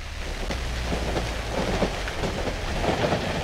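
A long train passes in the horror video game Cry of Fear, a dense, steady rumbling roar with rhythmic clacks running throughout and no speech.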